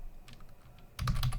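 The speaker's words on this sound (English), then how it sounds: "We're going to type sudo apt get install" Close computer keyboard typing while a command is entered on a Raspberry Pi 5 setup, starting with a few soft scattered taps, then a quick dense run of keystrokes.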